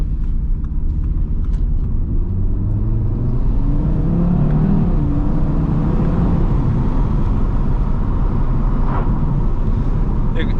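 A 2021 Audi TT RS with its exhaust valves open in sport mode, driven on a country lane; a loud, continuous engine rumble rises in pitch as it accelerates, heard close and alone.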